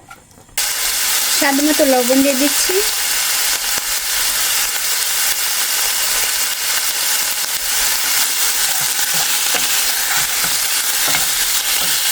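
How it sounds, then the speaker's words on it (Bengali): Beef brisket sizzles loudly in a hot pan for khichuri in Korea, a steady close frying hiss that starts abruptly and carries on throughout, with a brief voice-like tone early on. "আমি দিলাম বিগ ব্রিস্কিট ভাজা করবো"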